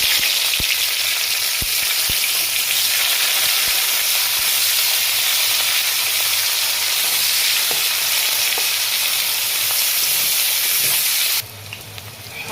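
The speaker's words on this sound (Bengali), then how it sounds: "পেঁয়াজগুলো আমার অর্ধেক ভাজা হয়ে গেছে" Onions sizzle steadily in hot oil in a pan, a dense continuous frying hiss with a few faint stirring clicks, close and loud, which drops away abruptly near the end.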